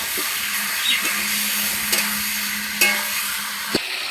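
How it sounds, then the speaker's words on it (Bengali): Chicken pieces fried with spices in a pan for Bengali chicken kosha, giving a steady close sizzle with a faint hum and a few sharp scraping clicks of stirring, no voices. "এবার মশলার সাথে মাংসটা নাড়াঘাটা করতে হবে, এইভাবে কষাতে হবে অনেকক্ষণ"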